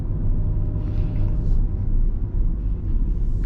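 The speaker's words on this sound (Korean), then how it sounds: "이제 오르막을 오를 때는 조금 이렇게 엔진 소리가 납니다." A Mini Clubman Cooper S drones as it climbs uphill, a steady low engine rumble heard from inside the car, with no talking.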